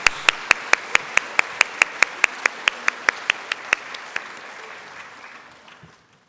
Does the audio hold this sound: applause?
yes